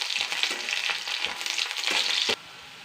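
Curry leaves and onions crackle in a hot pan as sputtering bursts of sizzle rise and fall with stirring, then the frying cuts off abruptly near the end.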